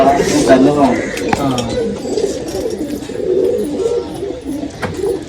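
Soft pigeon coos repeat in the background under nearby conversation, with an occasional light clink.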